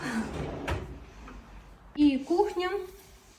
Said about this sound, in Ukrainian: Ось я висунула шухляду і все на виду.